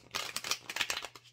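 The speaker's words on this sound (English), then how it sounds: "As I'm shuffling the cards" Tarot cards being shuffled by hand, a quick run of crisp riffling, flicking bursts in uneven rhythm, close and fairly soft with no voice over it.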